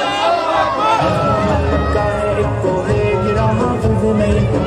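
Crowd chanting Takbir slogans at a Jamaat-e-Islami thanksgiving political meeting in Gulberg Town, Karachi: loud, massed voices shouting in unison, close and continuous, with a reverberant babble filling the space.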